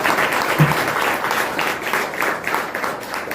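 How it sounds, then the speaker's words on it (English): Dense, sustained audience applause fills a hall at the opening ceremony of a mediation certificate course, steady and full throughout with no pauses. "Please give a huge round of applause."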